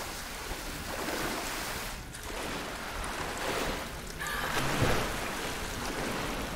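Rushing water in Tomb Raider Definitive Edition on PS5, a broad, continuous roaring wash of water with gusty swells, heard alone without talk.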